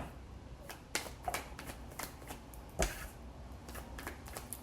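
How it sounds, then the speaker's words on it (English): A deck of tarot cards is shuffled by hand in close, soft riffling bursts, with a few sharper slaps as the cards are knocked together. "I already shuffled these with the deck."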